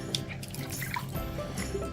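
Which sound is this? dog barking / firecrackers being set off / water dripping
water dripping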